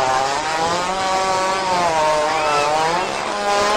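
A very long fart with a buzzing, chainsaw-like drone holds steady and loud, its pitch wavering and sliding up and down for nearly four seconds without a break.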